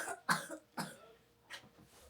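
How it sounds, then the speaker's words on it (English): A child coughs three separate times at uneven intervals inside a holiday apartment, each cough a sharp, brief burst, quiet and slightly distant. "And a kid with a cough."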